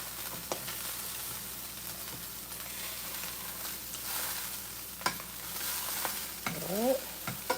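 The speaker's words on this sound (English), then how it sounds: "I like my fish skin to be as seared and crispy as possible." Salmon skin searing in a hot pan, a continuous close sizzle with occasional scraping and clinks of a spatula, a few louder knocks toward the end.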